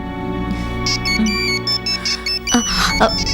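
A phone ringtone plays in a Tamil TV drama scene, a repeating electronic melody of short tonal notes over a steady musical bed, loud and close with no talk.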